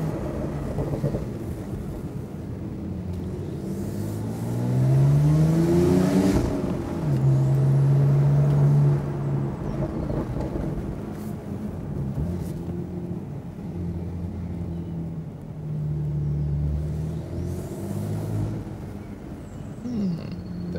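A Porsche 911 Carrera 4S Cabriolet in sport mode pulls hard through corners, its engine note rising and falling in repeated revving surges over steady road and wind rumble, moderately loud from inside the cabin.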